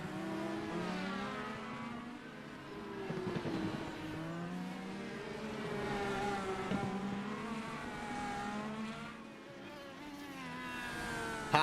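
Several race cars race at Long Beach, their overlapping engine whines rising and falling as they pass in traffic, heard at moderate distance without voices.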